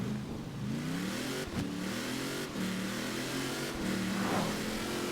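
Chevrolet Camaro ZL1 engine in Forza Horizon 5, revving repeatedly in rising pitch sweeps with quick gear-shift breaks, steady and close, no talk.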